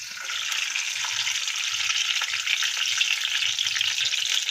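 Ghee sizzling in a pan during sheera preparation, a steady close hiss and crackle with faint low stirring bumps underneath.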